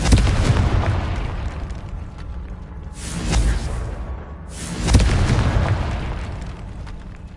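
Confringo fire spell blasts in a Harry Potter wizarding video game, loud booming explosions with a roaring burst near the start and two more heavy blasts around three and five seconds, each trailing off in rumble.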